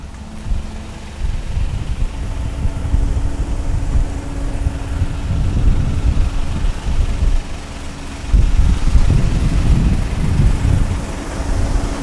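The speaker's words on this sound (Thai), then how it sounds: "ลมแรงครับ" Strong wind buffets the microphone on a rural road during cement and asphalt paving work, giving continuous loud low rumbling gusts that swell and surge throughout, with no voices.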